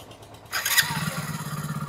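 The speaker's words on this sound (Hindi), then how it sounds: "अभी हम लोगों का बाइक स्मूथली स्टार्ट हो रहा है कि नहीं और इंजन में स्टार्ट गिर रहा है कि नहीं वो चेकअप करेंगे" Hero Splendor Xtec BS6 motorcycle engine starting: a brief starter whir, then the single-cylinder engine catches and settles into a steady, close, even idle putter.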